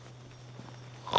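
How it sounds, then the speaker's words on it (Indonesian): A pig grunts briefly and fairly loudly at the very end, after a quiet stretch with a low steady hum. "suara babi itu keluar lagi"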